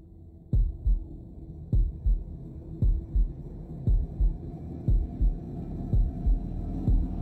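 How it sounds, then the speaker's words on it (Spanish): Heartbeat effect from Shadow of the Tomb Raider on PS4: a steady, loud double-thump pulse, about ten beats with a deep, throbbing low end over a faint hum, and no talking. "El latido del corazón."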